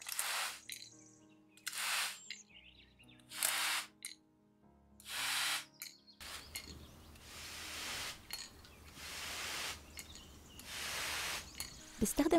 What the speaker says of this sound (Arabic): بصراحة هاي البخاخة جبتها من أيكيا وكتير حبيتها وحبيت صوتها، فحابة أسمعكم إياها